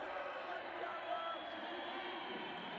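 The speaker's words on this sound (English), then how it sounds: "The roar of the crowd." Crowd noise at the full-time whistle of a Crowborough rugby cup final, a steady broad wash of cheering and roaring that holds at an even level throughout without letting up.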